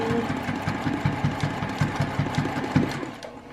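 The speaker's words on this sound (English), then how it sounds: "Another place where I'm going to back stitch heavy." A sewing machine back stitches across a reversible tote bag. Its needle thumps steadily in a fast, even rhythm, close and continuous, and slows near the end, with no talking.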